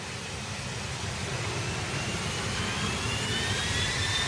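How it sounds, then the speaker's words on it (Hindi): US fighter jets flying, a loud, continuous jet engine roar that stays steady and slowly builds slightly in strength, with no voices over it. "अटलांटिक और यूरोप की तरफ फाइटर जेट्स की उड़ान।"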